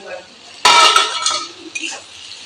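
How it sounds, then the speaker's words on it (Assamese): Chopped tomatoes hit fried onions in a pan for an egg curry with a sudden clatter, followed by spoon scrapes and clinks against the metal, close and fairly loud. "এতিয়া ইয়াতে এই বিলাহীখিনি দি দিছোঁ।"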